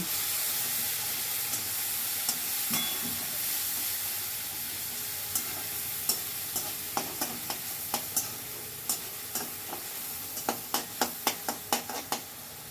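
Grated onion frying in oil with whole garam masala and cumin, a steady close sizzle broken by repeated sharp scraping clicks of a spoon stirring in the pan, growing more frequent toward the end.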